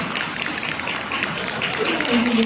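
An audience at a pastors' seminar applauds in a steady wash of clapping, with a voice speaking over and through it.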